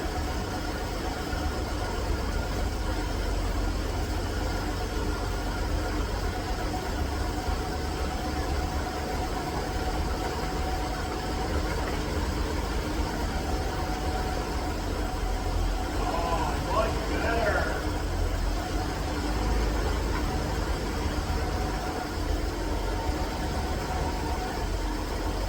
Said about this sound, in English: Man, what an honest old truck. I am so thrilled with how this thing runs.